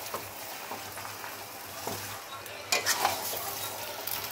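Jujube plums being stirred into jaggery in a pan for a pickle, a soft, steady scraping and stirring with faint sizzle and a few louder clinks near the end, no talk.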